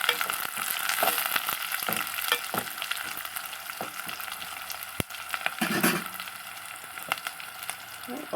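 Onions and curry leaves fry in a pan with a steady, close crackling sizzle, broken by occasional stirring scrapes and a few sharp pops.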